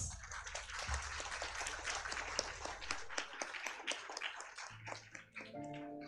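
Audience at a primary school annual day celebration giving sustained applause, a dense wash of many clapping hands heard from a distance and moderately faint, with a musical tone entering near the end.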